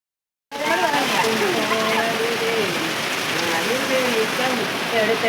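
Heavy rain falls on a Sunday, a dense, loud, steady hiss of drops on surfaces that starts abruptly, with a person speaking over it.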